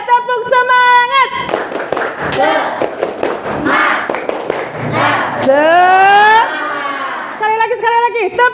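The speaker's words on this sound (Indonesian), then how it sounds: "1, 2, 3, tepuk semangat." A group of students doing a rhythmic cheer clap in a classroom, a burst of sharp clustered claps and shouts following a voice counting in, with children's voices chanting and a voice talking before and after.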